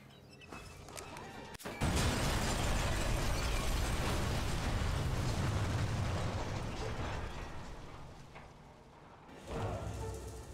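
A frag grenade exploding in Sniper Elite 3, a sudden loud blast after a few faint sounds, followed by a long rumbling roar that slowly fades before another burst near the end.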